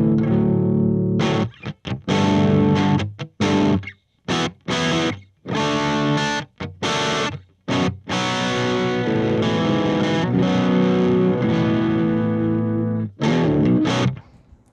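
Electric guitar through the Kyro Audio Dulo drive channel on its classic voice, playing chugging distorted chords in short choppy bursts separated by silences, then a longer sustained ringing section, loud and close.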